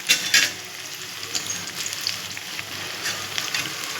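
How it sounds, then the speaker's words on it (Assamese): Pakora fries in hot oil in a wok, giving a continuous close sizzle and crackle that rises and falls gently, with a few stronger spatters early on and no voices. "ইফালে কেৰাহী বহাই তেল গৰম হ'ব দিছোঁ। ইফালে ভাজি আছোঁ পকৰি।"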